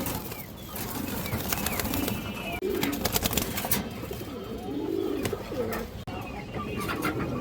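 Pigeons coo in soft, low phrases scattered across a noisy market-like hubbub, with clicks, rustling and occasional wing sounds, moderately near.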